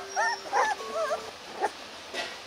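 Tiny Rottweiler puppies, about 20 days old and still nursing, whimper and yip in a series of short, high, wavering cries, several in quick succession, close by with a little low noise behind.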